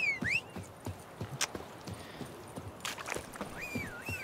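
Roach, the horse in The Witcher 3, clip-clops in a steady walking rhythm of hoof thuds, fairly close and moderately loud, with bird calls chirping at the start and end.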